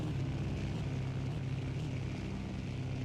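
A fighter plane's propeller engine drones steadily through a Battlefield 1942 match, a continuous loud buzzing roar with slight pulsing and no talk over it.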